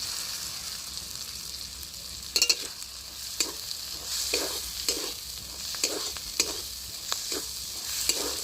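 Ginger fries in a pan with turmeric and a cashew and poppy seed paste for a jackfruit dish, under a steady sizzle with regular scraping strokes of a spatula at roughly one-second intervals, close and alone.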